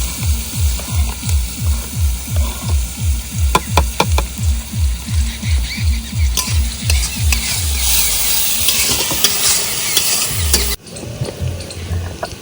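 Onions added to hot oil with whole garam masala and dried red chillies, a loud close sizzle with a rhythmic pulsing stir that gives way to a steady frying hiss.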